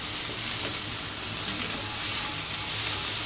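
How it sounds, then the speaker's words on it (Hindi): Coconut mixture frying in a pan until golden, a steady close hiss and sizzle throughout with faint stirring underneath. "ये देखिए ऐसे ये गोल्डन होने तक इसे भूननी है।"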